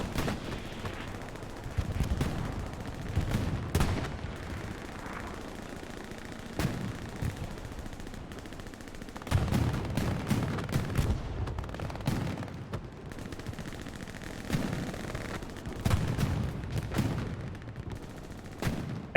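Sustained gunfire and heavy tank cannon blasts in a competitive video game match, with repeated bursts and booming shots throughout a busy battle soundscape.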